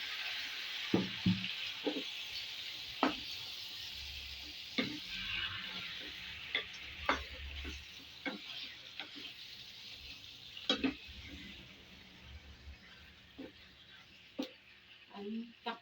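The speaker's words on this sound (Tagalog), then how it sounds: "At pag tunaw na yung butter, susunod na natin ang chicken. Ayan. Nilagay na natin yung chicken na hinarinate natin." Marinated chicken sizzles and fries in melted butter in a home kitchen pan, with a steady close sizzle under repeated clinks and scrapes of stirring, while a voice talks faintly in places.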